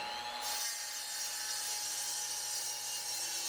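Miter saw cutting through wood, a steady close rasping whine that holds evenly for several seconds with no talk.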